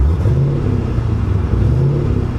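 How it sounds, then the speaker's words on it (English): An LS V8 swapped into a Mercedes 380SL R107 revs under light throttle, a loud low rumble that swells and eases, close by and without talk. "I'm gonna give some gas"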